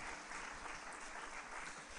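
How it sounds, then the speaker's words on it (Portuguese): A church congregation claps steadily and densely throughout, a continuous wash of applause with no pauses and no voices rising above it. "Você pode aplaudir ao Senhor por isto?"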